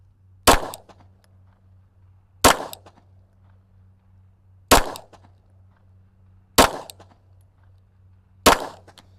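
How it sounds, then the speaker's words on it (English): Five sharp pistol shots ring out one at a time at evenly spaced intervals, each a loud close crack with a short decaying tail, fired while testing a Dalbinowl TYTO-R red dot sight, over a low steady hum. "I took 5 controlled shots and got them dead center."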